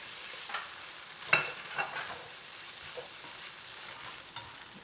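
Chopped onions stirred into ground meat browning in a pan for shepherd's pie: soft, steady sizzle with a few sharper spoon scrapes and clacks, close by and alone.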